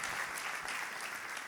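Steady audience applause at a church gathering, a continuous even wash of many hands clapping throughout, moderately loud and unbroken.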